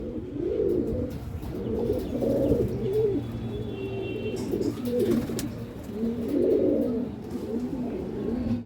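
Madras pigeons coo in soft, repeated throaty bursts, close and fairly loud, with rhythmic rising and falling phrases over a low steady background.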